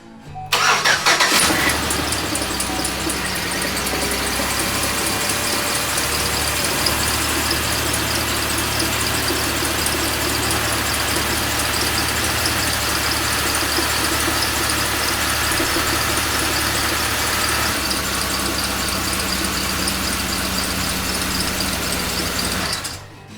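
A 2009 Chevrolet Impala engine cranks and catches, then settles into a steady, loud idle with a rough, uneven note from a misfiring cylinder 3, running on with no one talking.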